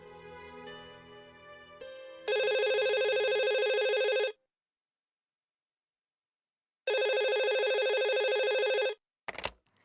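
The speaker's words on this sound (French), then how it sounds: "Dieu merci, tu as répondu au téléphone." A telephone rings in two long, loud bursts separated by a pause of silence, following a short stretch of background music in a dramatic scene.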